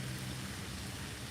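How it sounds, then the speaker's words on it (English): Rain falling steadily outdoors during a bass fishing trip, a dense, even hiss with no distinct drops standing out and no talking. "It's raining"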